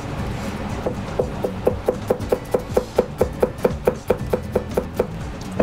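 Rapid, even knife chops as garlic is minced finely on a cutting board, about twenty crisp close taps in a steady rhythm, heard alone without talk.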